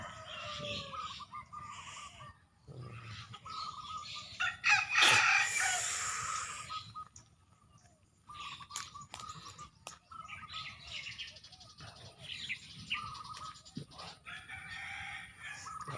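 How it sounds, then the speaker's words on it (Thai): Chickens clucking around a rural yard on an overcast morning, with a rooster crowing loudly partway through and scattered calls continuing, moderately near. "ไก่ออกมา"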